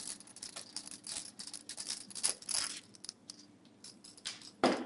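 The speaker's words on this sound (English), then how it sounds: "I'm just going to unscrew these." Small screws come out of a computer case's grill plate with faint metallic ticks, rattles and clinks from a screwdriver and loose screws, close and quiet with no talking.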